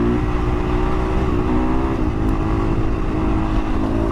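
Husqvarna 501 motorcycle riding in second gear, its engine a steady loud drone with a dense low rumble and a constant mid-range whine throughout, close and uninterrupted.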